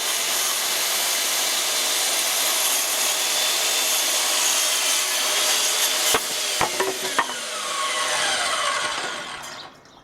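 Wooden decking boards being sawn to length for raised planters, a loud, continuous close-up rasp of cutting that breaks into a few sharp knocks and scrapes near the end before trailing off, with no voices.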